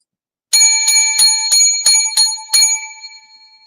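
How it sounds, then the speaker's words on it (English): A set of seven hotel bells rings in quick succession, bright metallic dings at a steady pace, close and loud, the last one left to fade into silence. "Seven lucky hotel bells."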